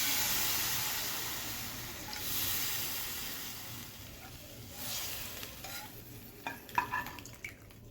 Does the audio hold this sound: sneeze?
no